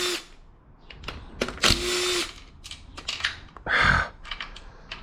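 Impact wrench working on a 2.0 TFSI engine during piston removal, with short bursts of rattling tool noise and clicks between them, close by and moderately loud.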